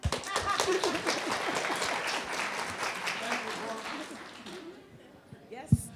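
A conference panel audience applauds with brisk, dense clapping that gradually thins out and fades, ending with a single louder knock.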